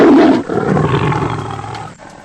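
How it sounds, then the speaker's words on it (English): A tiger lets out one loud, close, rumbling roar that starts strongly and fades over about two seconds. "The sound of tiger."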